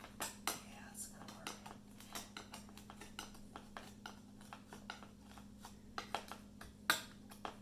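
A knife loosens the edges of a Swedish almond cake from its pan, giving light, sharp scrapes and taps at an irregular rhythm. The sounds are close and faint over a low steady hum, and a soft voice speaks at times.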